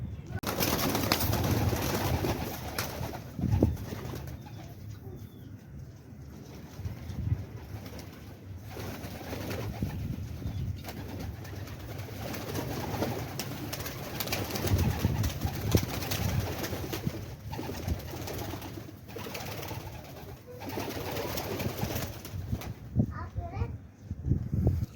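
Pigeons cooing in a loft, low repeated coos throughout, with someone talking over them and children's voices in the background.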